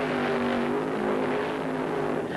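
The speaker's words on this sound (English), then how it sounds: "The burnouts were sensational." Funny car drag racing burnouts from Mr. Norm's Dodge and the Chain Lightning Mustang at an eighth-mile strip. A loud, sustained engine roar holds a droning pitch throughout.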